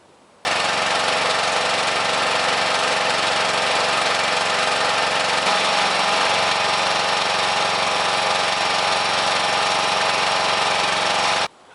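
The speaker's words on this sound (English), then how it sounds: "engage the wheels both forward and backwards at half throttle, each for 5 minutes" A riding mower with a hydrostatic transmission runs steadily at half throttle with its wheels engaged, a loud, constant engine drone that holds without a break and with no talking over it.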